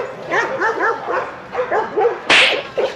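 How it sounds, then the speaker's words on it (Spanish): Several dogs bark and yip in a city park in Chapultepec, Mexico City, a quick run of close, sharp barks repeating through the clip with one louder burst near the end. "Mira los perros aquí en el parque de Chapultepec."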